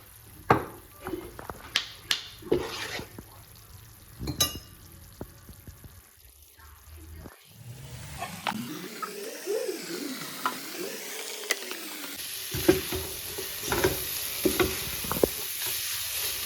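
Vegetables and ground black pepper drop into a hot pan for Chicken Manchurian, giving sharp clatters and crackles, then a swelling sizzle as they are stirred and tossed.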